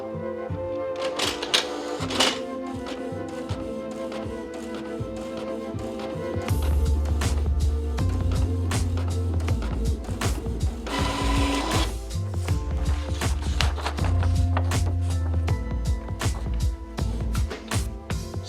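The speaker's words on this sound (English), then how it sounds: "I will print the image onto paper first" Home printer printing a stencil image onto paper: a steady, loud whirring and rattling mechanism with rhythmic clicking carriage passes and a low motor drone that swells midway, close up with no voices.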